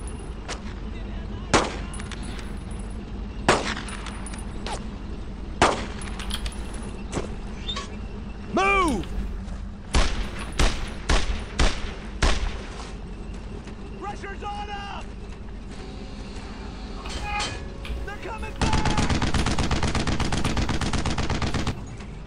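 Repeated gunfire in the World War II shooter Brothers in Arms: Road to Hill 30, sharp single shots and bursts spread across the scene, ending in a dense sustained barrage, with voices calling out between the shots.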